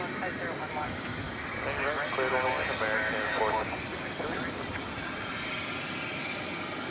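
Aircraft engines roar at DFW Airport at night around an Atlas Air Boeing 747-400, a broad continuous jet rumble that swells slightly midway, heard from a distance with people talking over it.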